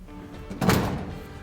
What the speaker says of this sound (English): Then we're gonna close our personnel door.